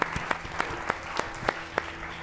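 Faint, sparse applause welcoming speaker Jeanette Andrews at a live talk, a few evenly spaced distinct claps standing out over a soft murmur of clapping.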